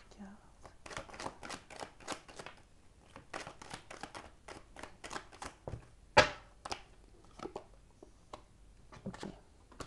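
Tarot cards shuffle in soft, rapid riffling flutters near the microphone, with a single sharper snap as a card is drawn, under someone speaking softly throughout.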